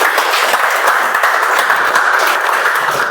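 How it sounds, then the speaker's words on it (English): Toastmasters club meeting audience giving a loud sustained round of applause, dense even clapping from many hands, close and continuous with no talk. "Huge round of applause for Toastmaster Hari"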